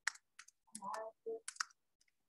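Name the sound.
typing on a computer keyboard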